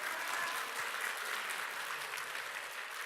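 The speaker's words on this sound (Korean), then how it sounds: "박수 한번 쳐주세요." A church congregation applauds during a Sunday sermon, a steady, even patter of clapping hands that fills the room at moderate volume for a few seconds, with no talking over it.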